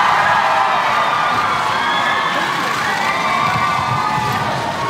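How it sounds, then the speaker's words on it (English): Crowds cheer for the Duke and Duchess of Cambridge outside St. Mary's Hospital in Paddington, a loud, dense, sustained roar of shouts and whoops with no break. "Just listen to the cheers from the crowds."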